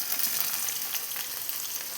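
Ground masala and chilli powder sizzle and fry in a hot pan, a dense, steady crackling hiss heard close up with no talking.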